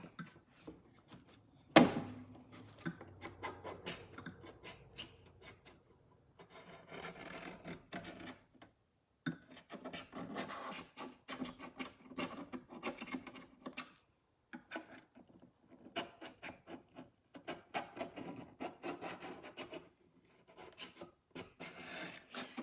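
A razor blade scrapes paint off a mirror in long raspy strokes, repeating in bursts with short pauses, close up and with no talking.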